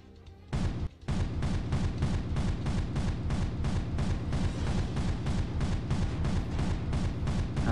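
Rapid, heavy booming shots pound out in a steady, loud barrage as a cannon fires during a guild siege in a video game, starting after a brief pause near the first second.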